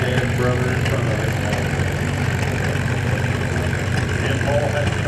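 A John Deere Model D antique tractor runs steadily at an antique tractor and steam engine parade in Berryville, Virginia, its low engine throb continuous and fairly loud throughout, with crowd noise and voices mixed in.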